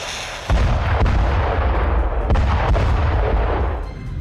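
Artillery fire in a Russian assault gives a heavy low boom that sets in abruptly, followed by a dense, rumbling barrage with repeated thuds and crackling blasts, loud and sustained, with no voices.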